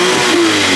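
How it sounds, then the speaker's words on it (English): A 700 hp Toyota Supra Roadster engine revs hard with the clutch in, giving a brief, loud, close-up roar that holds a steady growling pitch. "Just to clutch it and just rev it up"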